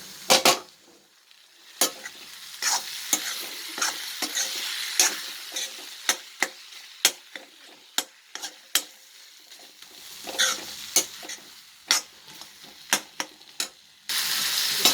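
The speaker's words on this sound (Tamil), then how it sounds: "தக்காளி நல்லா மசிஞ்சிடணும், முழிச்சிட்டு இருக்கக்கூடாது, தக்காளி இருக்குது தெரியக்கூடாது, அந்த மாதிரி நல்லா வந்து வதக்கிடணும்" Tomatoes sauté with ginger and garlic in a pan, a steady sizzle punctuated by regular sharp clacks and scrapes of the spoon stirring against the pan, close and fairly loud.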